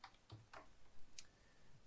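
Computer keyboard typing while a costing item is entered into software: a few faint, scattered key clicks in quiet surroundings, with no talking.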